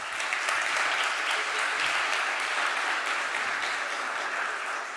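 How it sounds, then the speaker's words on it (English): A conference audience applauds at a high-level UN event, a dense, even patter of many hands clapping continuously and fairly loud throughout, with no talk over it. "And I think that deserves a big round of applause."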